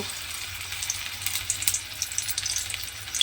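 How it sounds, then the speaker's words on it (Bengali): Spinach pakoras deep frying in hot oil make a steady, dense, bubbling sizzle, close and unbroken throughout. "সমস্ত পকোড়াগুলো আমি এইভাবেই ভেজে নেব"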